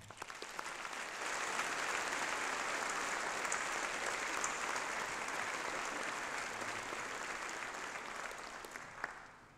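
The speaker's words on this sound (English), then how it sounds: "ask once again that you join me in applauding our thanks" A large audience applauds at a university graduation ceremony, a dense, sustained wash of clapping that swells and holds steady, with no talk over it.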